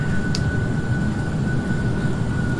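A Boeing 737-900 airliner in a flight simulator video game gives off a steady, loud engine rush with a faint whining tone, continuous throughout and with no talking.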